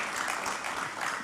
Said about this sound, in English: If you're clapping, please clap.